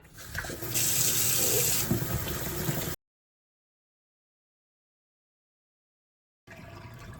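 Cold tap water gushes into a sink for a few seconds, cuts off into silence, then faintly resumes at the end.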